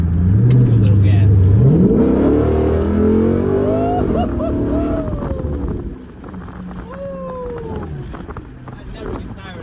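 Dodge Charger with a 6.1 Hemi V8 revving hard from inside the cabin, loud rising and falling engine pitch over several bursts, with someone talking over it.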